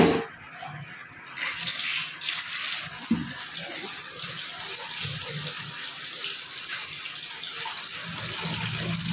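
Water poured into a pressure cooker holding meat and garlic, a continuous splashing gush lasting about nine seconds, loud and close, with no talking.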